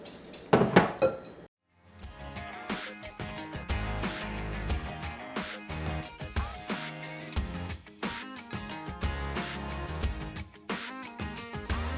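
Eggs for scrambled eggs are whisked in a bowl, with a rapid, rhythmic clinking of the whisk against the side coming in repeated bursts after a brief pause near the start.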